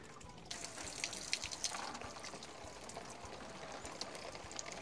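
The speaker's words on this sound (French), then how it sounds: "Alors moi je la récupère dans un arrosoir, ici, de façon à ne pas perdre cette eau." Water drains from a Gardena 4200 Silent garden pump into a watering can in a vegetable garden, a faint, steady trickle and splash that starts after a brief quiet moment and continues softly on its own.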